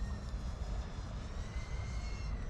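Geelang Anger 85X micro drone motors held at high throttle, a steady close whine and buzzing rush that stays loud and unbroken throughout with no pauses.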